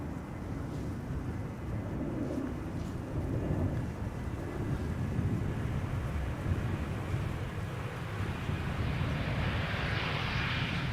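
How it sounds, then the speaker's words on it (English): An easyJet Airbus A320neo arriving from Edinburgh approaches to land at Amsterdam Schiphol. Its jet engines give a steady, broad roar that rises slightly toward the end, mixed with wind noise on the microphone. "Our next airplane coming in is an easyJet coming in from Edinburgh. It's an A320 Neo"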